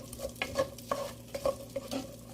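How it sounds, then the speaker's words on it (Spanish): Diced onion fries in a little oil in a pan for calabacitas con carne de res, a soft sizzle under a steady rhythm of spoon scrapes and stirs, no voices. "Y vamos a sofreír un poco la cebolla."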